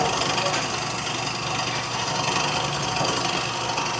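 Steady broadband cutting noise of a bowl gouge with a 40-40 grind shearing wood on a lathe, throwing curls, continuous and close with a low motor hum underneath.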